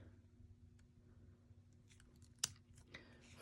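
Embroidery threads being carefully snipped with small scissors at a machine-embroidered in-the-hoop cord keeper: a quiet scattering of soft clicks and one sharp crisp snip near the end, close and otherwise near silent.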